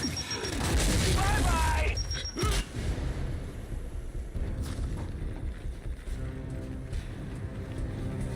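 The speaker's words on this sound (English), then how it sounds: "Throwing frag! Frag out!" A frag grenade goes off in a first-person shooter video game, giving a loud, heavy boom near the start with rumbling debris and battle noise after it, while players talk over the action.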